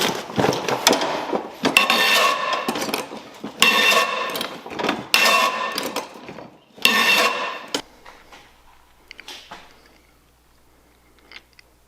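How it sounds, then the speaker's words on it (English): A pipe wrench works on a GM power steering pump pulley on a Cutlass Supreme, giving bursts of loud, rattling metallic clanks and scrapes that stop, leaving near silence. "So if you use a pipe wrench, that's what happens."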